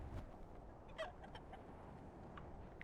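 Chickens clucking in the survival video game The Isle, with a few short, separate clucks scattered over a quiet, low-level background, faint and somewhat distant.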